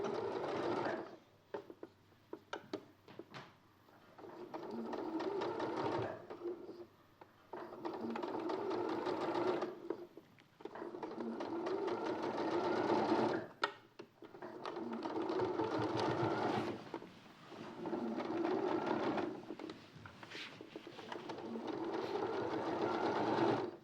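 A sewing machine stitching a seam in fabric, running in several long whirring bursts with a busy mechanical clatter. Short pauses separate the runs, and it is heard close and alone.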